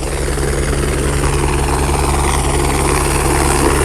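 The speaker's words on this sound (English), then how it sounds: "we're going to be putting this camera down as the helicopter comes in" San Francisco Fire Department helicopter coming in to land on sandy ground, a loud, steady, close rotor and engine roar with a low hum throughout.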